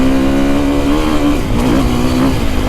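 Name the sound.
Husqvarna FE450 four-stroke dirt bike engine revving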